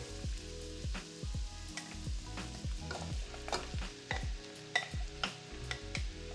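Mushrooms sautéing in a pan with softened onions and celery for a mushroom olive oil stuffing, a steady close sizzle broken by repeated scraping stirs and utensil knocks throughout.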